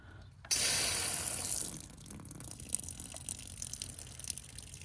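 A sudden hiss of water spraying out of a sprinkler valve during winterizing, loud for about a second, then fading to a soft trickle and scattered drips.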